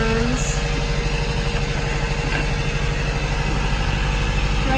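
A sailboat's auxiliary motor drones steadily and close by off the coast of Maine, a continuous low hum with an even throb and no break.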